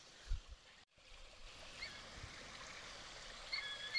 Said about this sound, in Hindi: वो देखिए पानी का धारा है ऊपर